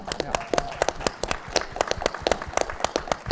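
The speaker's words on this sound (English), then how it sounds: "Can we pause and just give a clap for that?" Audience at a sustainability marketing conference clapping briefly, a sparse scattering of individual claps rather than a full ovation, with some voices underneath.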